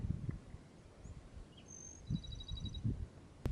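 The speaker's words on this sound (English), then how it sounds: "Listen to the bird." A small bird chirps faintly in the distance along the Pacific Crest Trail, a few short high notes and a brief trill over quiet outdoor rustle.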